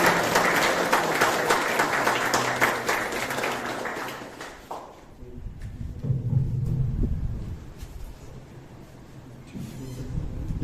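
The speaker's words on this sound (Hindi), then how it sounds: "जोरदार तालियां दोस्तों के लिए।" An audience at an Independence Day celebration in a rehabilitation centre applauds loudly for about five seconds, then the clapping fades into quieter room sounds with a low murmur.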